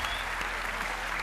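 Warm applause from a studio audience at a televised singing show performance, a steady dense clapping that fills the whole moment with no voices over it.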